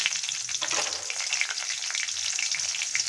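A few green chilies go into hot oil already used for frying pointed gourd, with nigella seeds tempering. The result is a close, steady crackling sizzle with tiny pops throughout.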